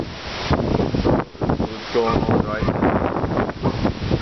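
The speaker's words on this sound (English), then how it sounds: "That's some strong wind that you see right here." Strong, gusty wind from Hurricane Isaac, with rain falling and trees blowing, roars steadily into the microphone while someone talks over it.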